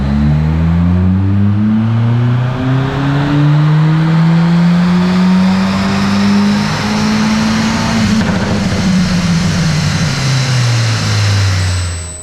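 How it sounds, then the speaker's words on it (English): A tuned Ford Focus ST225 on a dyno revs hard and loud, its engine note rising steadily, then backing off with crackling pops on the overrun before fading at the end. "The customer wanted cat safe crackle as well, so we've added that in on the overrun."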